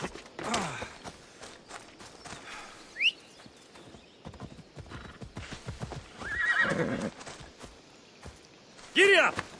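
Horse from the video game Assassin's Creed Odyssey, hooves clip-clopping steadily with several loud whinnies and snorts, a voice speaking in between.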